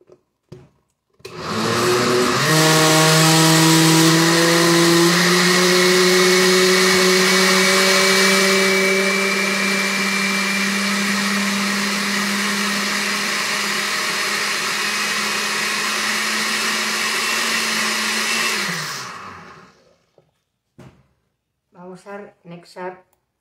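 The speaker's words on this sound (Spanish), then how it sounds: "Vamos a licuar nuevamente." An electric blender whirs loudly and steadily for about eighteen seconds, blending a milk mixture for pasta ice cream (nieve de pasta), then winds down and stops, followed by brief faint clatter.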